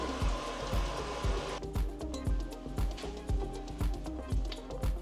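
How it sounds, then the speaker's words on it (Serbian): Water pours into a blender jar in a short, hissing rush lasting about a second and a half, followed by a quieter rhythmic thumping beat. "Sada ću dodati malo vode ovde."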